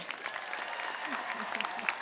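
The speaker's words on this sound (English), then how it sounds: "Let's give one more round of applause for Dr." Commencement audience applause at a university graduation ceremony, a dense, continuous patter of many hands clapping at moderate level, with faint voices underneath.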